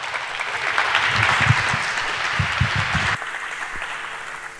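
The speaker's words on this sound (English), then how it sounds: "great applause for Marleen" A conference audience at the SHA2017 hacker camp applauds warmly for a lecture speaker, a sustained wash of clapping that cuts off abruptly near the end.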